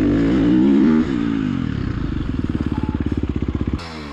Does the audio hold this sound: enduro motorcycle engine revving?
yes